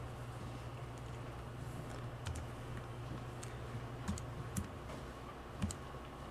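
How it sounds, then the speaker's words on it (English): Keys tapped on a calculator give quiet, scattered clicks at close range, in short irregular bursts over a faint background hum. "now I'm going to type this in the calculator real quick"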